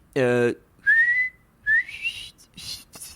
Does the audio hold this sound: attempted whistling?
yes